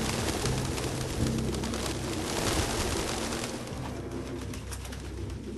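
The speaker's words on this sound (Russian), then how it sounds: "эти птицы, блин, когда они уже улетят все?" Pigeons cooing in the game Detroit: Become Human, a steady, fairly close chorus of soft repeated coos over a busy background of ambient noise, fading slightly toward the end.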